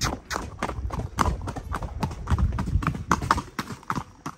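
Hooves of a gaited horse in marcha clip-clop in a quick, even rhythm close by, loud and steady, with a brief whinny-like sound and faint voices.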